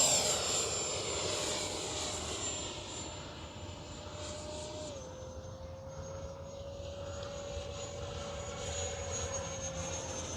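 An FMS Viper 70mm EDF radio-controlled jet flying overhead on a warm day, a steady high-pitched ducted-fan whine that shifts in pitch as it passes, heard alone and fairly faint.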